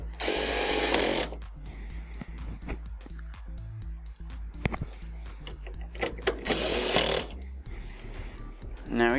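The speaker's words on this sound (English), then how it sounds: "I'm going to take our two screws and put those in." A power screwdriver drives two screws into the back cover of a Mitsubishi DLP television, giving two loud, sustained whirring bursts, one at the start and one near the end, with quieter handling clatter and shuffling between them.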